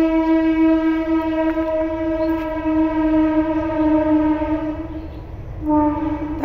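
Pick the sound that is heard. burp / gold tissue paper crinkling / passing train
passing train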